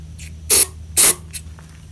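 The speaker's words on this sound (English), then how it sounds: "Get my ether, my starting fluid." Two sharp hissing bursts of ether starting fluid sprayed into a Tecumseh HS30 engine, each about a quarter second, followed by a faint short puff, close by over a low background hum.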